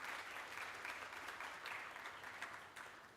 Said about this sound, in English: Get applause to Ibu Masita.